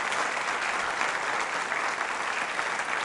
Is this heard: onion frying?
no